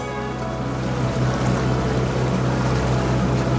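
A sailboat motoring on its engine in light wind sends out a steady low drone with a constant hum and faint water wash, close and continuous, with no talk.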